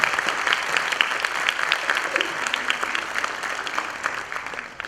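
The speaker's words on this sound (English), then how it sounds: "So can we please clap for our teachers?" An audience at a school event applauds its teachers, sustained dense clapping from a crowd that gradually tapers off.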